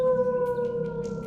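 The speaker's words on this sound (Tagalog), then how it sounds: "biglang umalulong ng malakas sa mga aso sa kalagitnaan ng tirik na araw" Dogs howl loudly together in broad daylight, a sustained, steady wail with strong held tones running through the whole moment, close and prominent with no talk over it.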